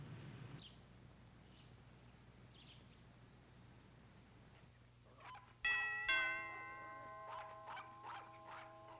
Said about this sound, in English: I'm sorry to just ring your bell like this